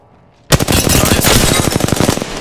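Rapid automatic gunfire in the Apex Legends battle game, a loud, dense burst of evenly spaced shots starting abruptly after a brief quiet moment and continuing steadily to the end.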